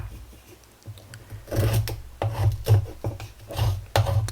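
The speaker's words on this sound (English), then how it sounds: "Let's see how it chisels a piece of wood." A Kubey KU433D everyday-carry folding knife chisels a piece of wood, making rhythmic rasping scrapes that start quietly and grow into repeated firm strokes, close and alone with no talking.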